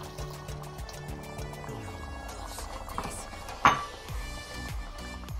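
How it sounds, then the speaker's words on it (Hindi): Water is poured into a mutton kebab karahi as it cooks, giving a trickling, liquid pour with light drips and a brief louder splash near the middle, no voices over it. "अब हम थोड़ा सा पानी ऐड कर रहे हैं।"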